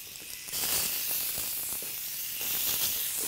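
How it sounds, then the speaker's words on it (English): Olive-oiled lamb chops sizzle in a hot grill pan, a bright steady hiss that jumps louder after the first half second and holds, with faint crackles underneath. "hot grill pan, pop them in there, a couple minutes each side."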